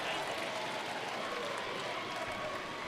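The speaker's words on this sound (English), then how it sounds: "Carver Gym right now is rocking everybody on their feet" A packed crowd roars and applauds in Carver Gym during a men's college basketball game between WWU and Seattle Pacific, a loud, dense, continuous cheer filling the whole moment.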